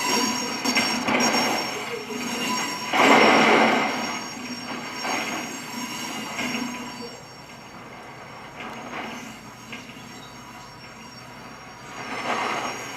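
A modded locomotive in the BeamNG driving game, reversing at almost 70 mph until it is pulled off the rails. Loud, continuous metallic rumbling and squealing wheel tones swell and fade over several seconds, with no voices.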